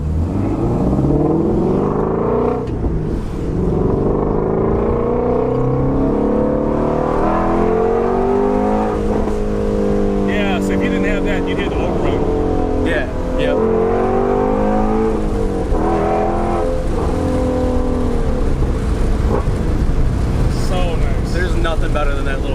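A loud Shelby GT350 engine revs and roars steadily, rising and falling in pitch as it accelerates, with someone talking over it.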